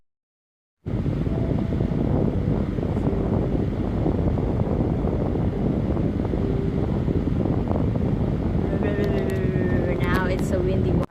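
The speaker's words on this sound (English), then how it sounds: "now it's a windy one" Steady wind buffeting a phone microphone outdoors, a loud continuous rumbling roar that runs unbroken from just after the start, with a person talking over it.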